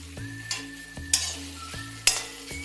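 Grated coconut for a mushroom curry sautés in a pan, a soft sizzle broken by several sharp scrapes and knocks of a spoon stirring at an irregular pace, with no one talking.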